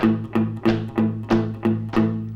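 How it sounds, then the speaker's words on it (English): Six evenly spaced strummed guitar chords in a steady, even rhythm, each ringing briefly before the next strum, played alone with no talking. "as opposed to a straight 8 rhythm,"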